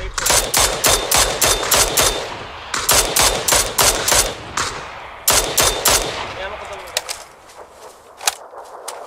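Rapid bursts of gunfire from a tactical shooter game pound out in loud, repeated volleys with short pauses between, then thin into scattered single shots near the end.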